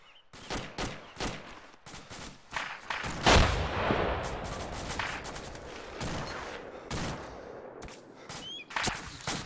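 Incoming gunfire cracks in a rapid burst of sharp shots, mostly close and loud, with one heavy report near the middle and scattered single shots around it. No talking is heard.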